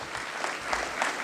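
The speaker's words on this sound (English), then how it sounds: "So let's give them a round of applause" Brief burst of audience applause for community servants at an award ceremony, a dense, even patter of many clapping hands at moderate volume with no voices.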